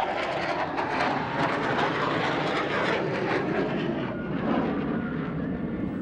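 An F-15 Eagle fighter jet flies a demonstration maneuver, its engine roar steady, broad and loud throughout, with no voices over it.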